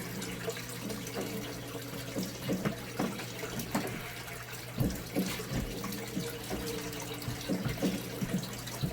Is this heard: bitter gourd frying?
no